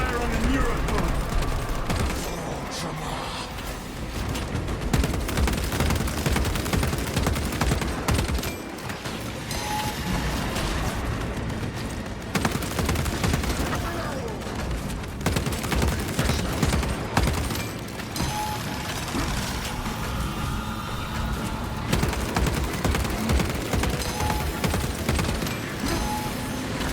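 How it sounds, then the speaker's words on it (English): Gunfire in the video game Warhammer 40K: Space Marine 2 during a fight against a Neurothrope, a dense, continuous roar of shots and blasts with crashes and booms layered over each other throughout. "Concentrate fire on the Neurothrope."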